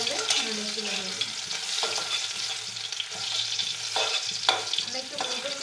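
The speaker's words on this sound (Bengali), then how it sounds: "হালকা পেঁয়াজগুলো ভাজা হলে নুডলসগুলো দিয়ে দিব" Onions sizzling as they lightly fry in a pan before noodles go in, a continuous near crackle broken by a few stirring clatters.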